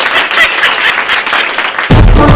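Studio audience applause on the Telugu TV comedy show Kick: a dense, steady wash of clapping that runs for about two seconds, then gives way to a louder, low-heavy burst.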